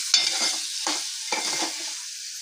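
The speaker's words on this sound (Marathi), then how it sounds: "आता मी टोमॅटो छान परतून घेतलेला आहे।" Chopped tomato sautéing in a green masala paste gravy for dal vajari, stirred in a hot pan with three sharp scraping strokes over a steady bright sizzle, close and moderately loud, no talking.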